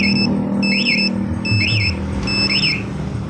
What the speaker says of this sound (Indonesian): yang di motor akan bunyi alarmnya, yang di remote juga akan bunyi ya